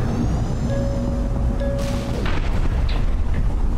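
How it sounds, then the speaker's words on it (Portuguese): Gunfire and booming explosions in the video game Armored Core 6, loud rumbling blasts over a constant low roar, with sharp bursts near the middle and a few tonal mechanical whines. "É tiro pra tudo quanto é lado."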